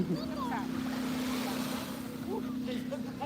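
Sea waves wash onto a sandy beach with a soft, continuous surge and wind noise, while a voice speaks faintly over it.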